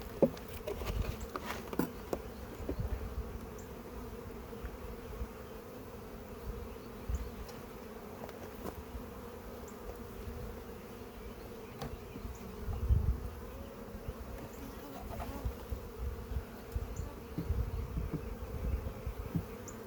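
Honeybees milling around hives that have just been moved, a low steady buzzing swarm throughout with individual bees droning past the microphone, fairly quiet with occasional closer passes and light bumps.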